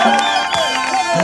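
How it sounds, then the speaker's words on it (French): A church congregation at a cornerstone-laying ceremony cheers and claps in a short, dense burst of crowd noise, loud and close, with voices mixed in. "Acclamons encore le poursuivant."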